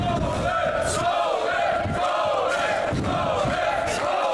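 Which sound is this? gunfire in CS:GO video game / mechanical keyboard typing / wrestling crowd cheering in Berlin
wrestling crowd cheering in Berlin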